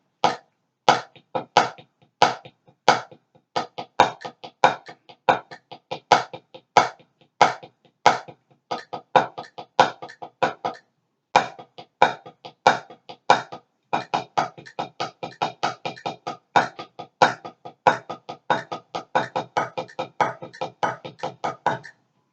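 Drumsticks striking a practice drum pad in a steady rhythmic pattern against a metronome click at 92 beats per minute, crisp close taps in sequence, with a short pause midway before the sticking resumes more densely.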